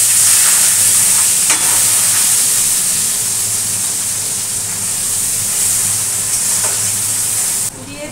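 Chopped onions dropped into hot oil tempered with cumin and bay leaf, a loud continuous sizzle and hiss close by with a few stirring knocks, no talk.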